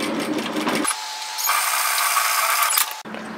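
Sewing machine stitching fabric pieces together for a reusable cup pattern, running in a loud steady whir that changes pitch as the speed shifts, with no talking.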